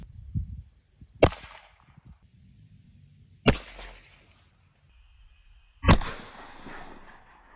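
Three sharp .45 pistol shots from a Kimber Custom 2 fired into Halloween candy, each a loud, close crack with a short echoing tail, spaced a couple of seconds apart with quiet pauses and no talk.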